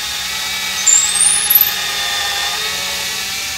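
Power drill boring into soft Paulownia wood, a steady high motor whine with a rising pitch sweep as the bit bites in, then settling back to an even hum.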